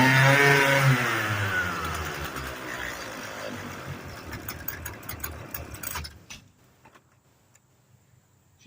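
A Husqvarna string trimmer's small two-stroke engine runs on 24-year-old kerosene, starting loud and near, then sputtering and fading over several seconds before cutting out into near silence.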